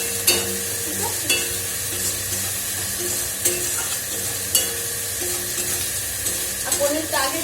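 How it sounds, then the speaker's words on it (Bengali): Onions fry with salt in a pan, a close, steady sizzle with periodic scrapes and clinks of a spoon stirring every second or so. "নুনটা দিলে পেঁয়াজটা বেশ ভাজা ভাজা হয়ে যাবে"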